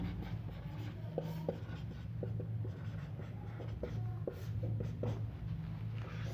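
Pen scratching out a mensuration formula for the slant height of a cone, irregular soft strokes and taps close by over a steady low hum, with no voices.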